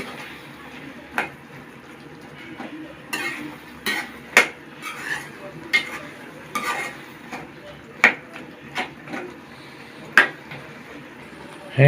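Fried tomato mash and spices stirred in a pan: a spoon scrapes and clatters against the metal in irregular sharp knocks over a soft background hiss, close by and with no talking.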